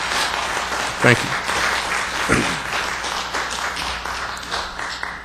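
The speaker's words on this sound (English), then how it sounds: "you can clap" Applause at a high-speed rail authority board meeting, a room of people clapping for several seconds while someone speaks briefly over it.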